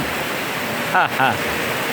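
Rainwater flows and rushes steadily during an all-day downpour that has caused flooding, a constant close wash of water with a brief voice and louder swell midway.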